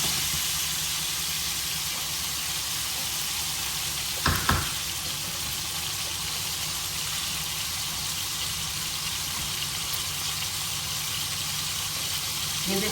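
Chilies frying in a pan for a stuffed tinda dish give a steady, moderately loud sizzle and hiss throughout, with a brief clatter of stirring midway and no talking.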